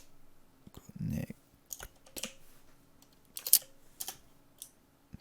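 Sporadic keystrokes on a computer keyboard, a few scattered clicks spaced across several seconds at close range, with a brief low voice murmur partway through.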